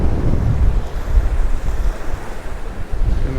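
Sea waves pound a windy Mallorca coast at Santa Ponsa, a continuous rolling surf roar with gusts rumbling against the microphone and no voices.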